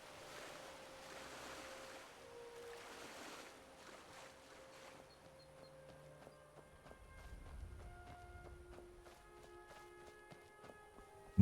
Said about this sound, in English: I'm just going to jump in the water and swim over there